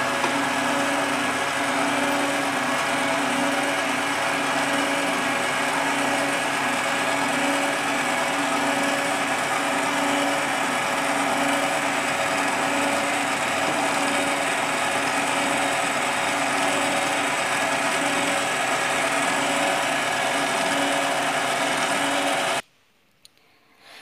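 Electric mixer running steadily as it beats eggs and sugar for a chocolate soufflé, a continuous high whirring drone held at even loudness for over twenty seconds before cutting off abruptly near the end.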